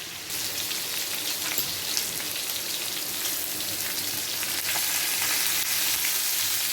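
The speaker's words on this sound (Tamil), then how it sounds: "நல்லா வேகட்டும் நல்லா ரெண்டு சைடும் நல்லா வேகணும் சிக்கன்" Chicken pieces fry in hot oil in a pan, a loud, steady crackling sizzle like rain that runs on without a break and with no voices.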